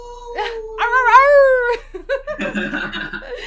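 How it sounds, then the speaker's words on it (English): A dog lets out a rising, wavering howl lasting about a second, clear and close, followed right after by people chuckling and laughing. "we got Rye to howl"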